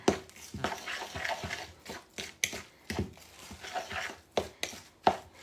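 A salmon patty mixture with two whole eggs being stirred by hand in a bowl, giving steady, rhythmic wet squelches and clacks of the utensil, close and repeated about twice per second.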